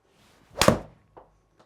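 A golf club strikes a ball in one sharp, loud impact thwack during a club-head speed drill, followed by two faint small knocks; no talk.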